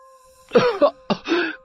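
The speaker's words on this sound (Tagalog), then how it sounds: "Ayan, inatake ka na naman ng ubo mo." Two rough, harsh coughs from one person, close and clear, separated by a short pause over a faint steady hum.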